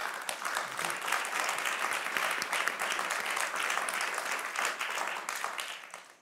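Audience applause welcoming a discussion panel at a Davos forum event, a steady dense clapping from a large crowd that holds level for about six seconds before tapering off at the end.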